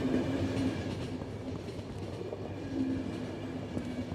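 A train rumbles along steadily in The Final Station video game, a low continuous rolling drone with faint rhythmic clatter and a soft humming tone throughout, without speech.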